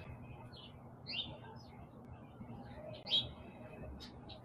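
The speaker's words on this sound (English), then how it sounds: "listen to the birds" Faint, brief bird chirps sound at a distance near water in the morning, two or three short calls over a steady low background hum.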